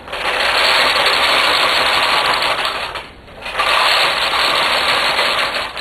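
A knitting machine carriage runs across the bed knitting rows on a ribber dishcloth project, a loud continuous whirring rattle with one short pause mid-pass before the next row starts.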